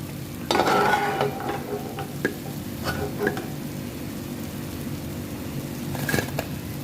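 Bread slices frying in oil for shahi tukda, with a low steady sizzle and a few close clinks and scrapes of a utensil against the pan, the loudest bursts near the start and again toward the end.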